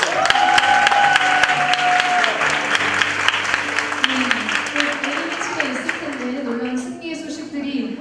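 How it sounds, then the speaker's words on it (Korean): Loud audience applause fills a church youth service, steady and dense, with voices and music-like tones underneath that gradually fade. "큰 박수로 한번 주세요"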